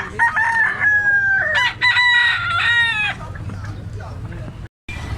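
A young gamecock stag of the talisayon type, about 2 kilos, crows several times in a row with loud, close, drawn-out calls, with some clucking and background chatter around it.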